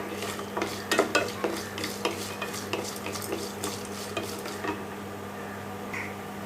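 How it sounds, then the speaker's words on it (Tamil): Cashews and lentils are stir-fried in a pan, with a spoon scraping and clinking against the metal in quick strokes over a soft sizzle that fades to quieter frying, and no one talks. "இதில் ஒரு 4 முந்திரி பருப்பு அதையும் போட்டு நல்லா வதக்கிக்கலாம்."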